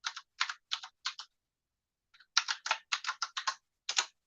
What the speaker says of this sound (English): you should see stars come up as I'm typing.